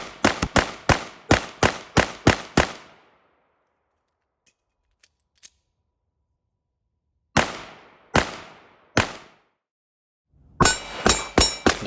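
Pistol shots from a Staccato ring off steel targets in quick bursts: a fast string of about eight sharp cracks, a pause, three more spaced shots, then another rapid volley with metallic ringing, close and loud.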